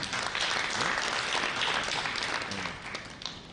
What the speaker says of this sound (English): Another round of applause to Office of the Prime Minister.